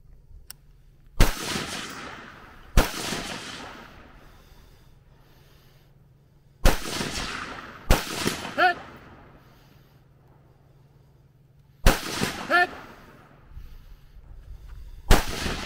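Gunshots from two guns in a video game, several sharp loud bursts spaced a few seconds apart, some in quick pairs, with quiet gaps between them.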